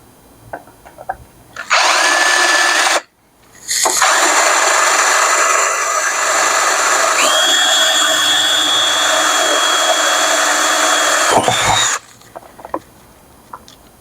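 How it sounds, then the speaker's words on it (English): A power drill whines steadily at high speed boring through a board, pauses briefly, then bores on for several more seconds before stopping, with faint clatter around it. "So I'm just going to go ahead and drill through here."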